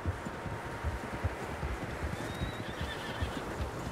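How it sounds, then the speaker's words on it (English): Several horses in a Red Dead Redemption 2 game scene, with a brief whinny rising over a steady rumble of hooves and rustling, noise continuous and fairly close throughout. "Horses, quite a few of them."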